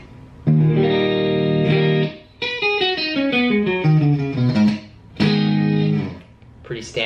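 Clean electric guitar tones from a Jackson SL7P seven-string on the neck pickup, rounded and warm, with chords and a descending melodic run played close and loud, with no talking over it.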